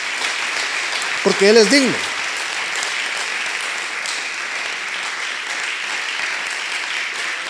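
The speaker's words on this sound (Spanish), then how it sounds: "cuando aplaudamos, démosle palmas al Señor" A church congregation claps hands in praise during worship, the dense, continuous clapping sustained throughout while someone speaks briefly near the start.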